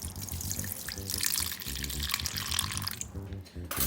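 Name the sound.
pickle juice being poured into a bowl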